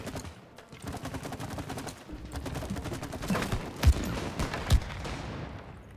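Rapid gunfire from the It Takes Two video game in a war-zone squirrel battle, a steady stream of shots with a couple of louder bangs standing out, fairly quiet overall.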